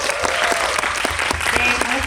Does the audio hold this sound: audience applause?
yes